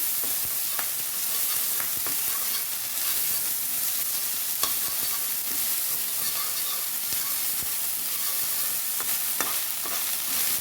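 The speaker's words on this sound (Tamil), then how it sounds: "இப்போ இந்த பொரிச்ச முட்டையில் இந்த சாதத்தை போட்டாச்சு. இப்போ நல்லா கிளறிக்கணும்." Rice is stirred into fried egg in a pan for egg fried rice, with a steady sizzle and hiss and scraping stirring strokes throughout, close and continuous with no talk.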